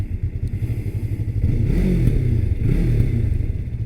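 A 2019 Yamaha R3 fitted with a slip-on exhaust rumbles loudly on the road, its engine note pulsing and then swelling into a steady, throaty drone as the rider accelerates, with no talking.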